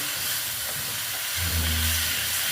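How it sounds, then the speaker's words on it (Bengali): Water splashed into a hot pan of okra cooked with sesame hisses in a steady, close steam that swells briefly toward the end, with no talking. "আমি দেখো বাটিটা ধুয়ে জল দিয়ে দিচ্ছি"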